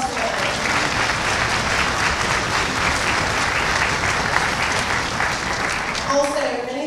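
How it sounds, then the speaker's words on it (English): An audience at an all-county orchestra concert gives a full, steady round of applause that holds evenly for several seconds, then thins out at the end. "Big round of applause for that."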